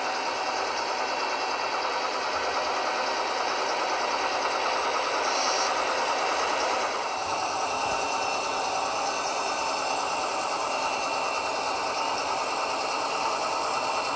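Model train locomotives working up a 1.8% grade on a layout, giving a steady, continuous motor hum and rumble with a faint mechanical whine that holds even throughout, no voices.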